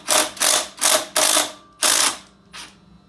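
Ratchet loosening the axle on a Monster Moto 80 minibike, five close, loud bursts of rapid clicking in short strokes with brief pauses between, then a fainter final burst, with no talking.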